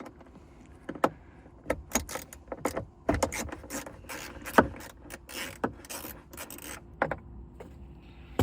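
Socket ratchet on an extension loosening a 10 mm bolt on a retired police Dodge Charger, giving a run of short clicking and rasping bursts at close range, with irregular pauses between strokes and no talking.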